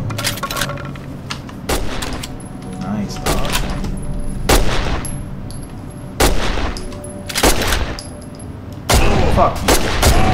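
M14 rifle shots in the horror game Condemned: Criminal Origins, several sharp broadband bangs spaced a couple of seconds apart over a low murky ambient drone.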